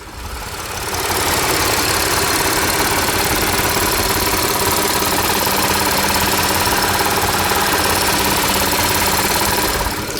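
An Audi V6 engine heard from the top end, revving up and then holding a steady, loud, close drone with a faint ticking click running through it, and no voices.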